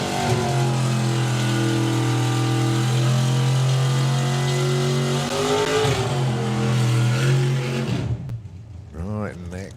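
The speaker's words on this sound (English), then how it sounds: "next pair already doing the burnouts there" Drag racing cars doing burnouts at a drag strip, a loud sustained engine roar with steady revving that cuts off near the end, heard under a commentator's continuous talk.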